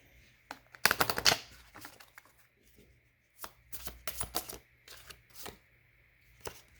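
Tarot cards being shuffled by hand in a quiet room, several short bursts of riffling and flapping with pauses between, close and fairly soft.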